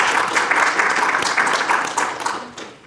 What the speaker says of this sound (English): Yes, indeed, a round of applause.